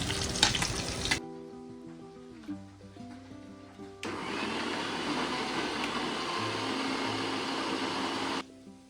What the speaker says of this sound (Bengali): আর এখানে পা মাছ ভাজা বসিয়েছি